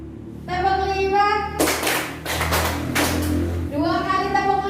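Group hand clapping in unison during a positive-culture school session, a burst of several sharp claps in quick succession set between a leader's talking voice before and after.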